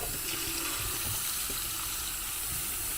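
Warm water runs steadily from a tap into a container, a continuous broadband splashing rush that stays loud and even throughout with no talking.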